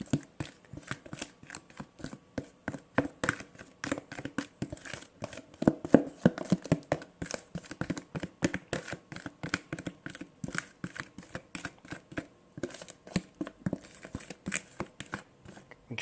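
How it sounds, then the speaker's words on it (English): Nut butter and sweetener are worked into dry ingredients for no-bake cookies, producing a steady run of quick, close tapping and scraping clicks from a utensil against a bowl, with no talking. "now we're going to take our nut butter mixture and our sweetener and add that with our dry ingredients"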